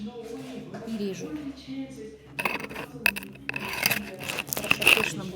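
A knife cutting food right next to the microphone in a home kitchen, with scraping, crunchy cuts growing louder and busier after someone talks quietly at the start.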